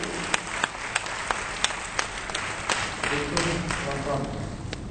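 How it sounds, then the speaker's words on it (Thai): Congregation applause at an evening revival church service, a few sharp claps at first swelling into steady clapping from a crowd, loud and close for about five seconds. "Berikan tepuk tangan buat Tuhan."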